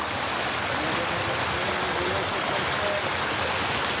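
A mountain stream on the John Muir Trail near Mather Pass flows steadily in a broad, continuous wash of water, close and even, with no voices.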